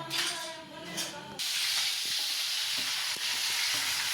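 Oil sizzles loudly in a pan as sandwich tempering is fried, a steady frying hiss that starts abruptly after a short stretch of background noise and keeps going.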